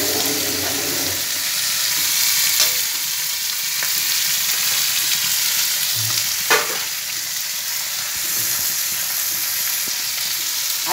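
Food for a curry sizzles and fries steadily in a pan in a home kitchen, with a continuous crackling hiss, a few sharp clinks of stirring and faint water running early on.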